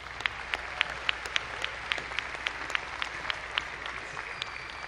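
A commencement crowd gives graduates a sustained round of applause, many hands clapping in a steady dense patter with a few sharper individual claps standing out, moderately distant.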